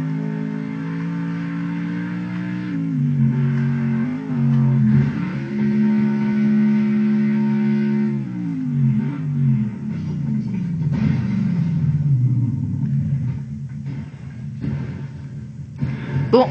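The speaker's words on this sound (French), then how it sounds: "NASCAR Game est un jeu de voiture." A race car engine from a NASCAR video game demo drones steadily throughout, its pitch rising and falling as it revs and shifts, loud and continuous with no talking.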